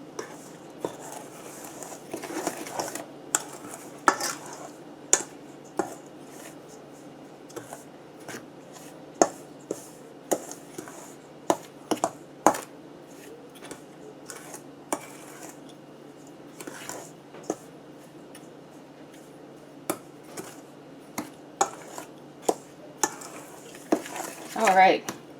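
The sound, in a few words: spoon stirring dry carrot cake ingredients in a bowl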